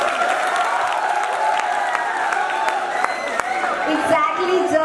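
Festival audience at a college event in Jaipur clapping and cheering steadily, a dense crowd texture with voices mixed in throughout.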